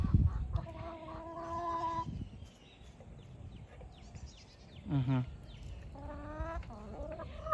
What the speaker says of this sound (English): you have a crazy, ridiculous chicken named Mavis Dracula.